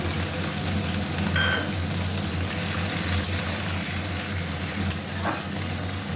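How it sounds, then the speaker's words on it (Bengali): Ginger paste and tomato with a splash of water sauté together in a pan for matar paneer, giving a continuous close hiss and bubbling sizzle with a few faint stirring scrapes. "সবগুলো একসাথে কষিয়ে নিই।"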